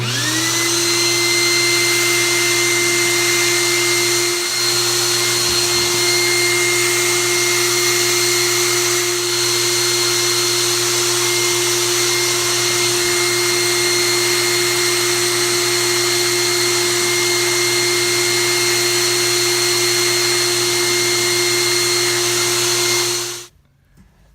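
A steady electric whine from a small vacuum or blower runs without a break, used for suction and then to blow glue into a crack in a broken chair, stopping abruptly near the end.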